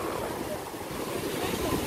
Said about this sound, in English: The waves are pretty big.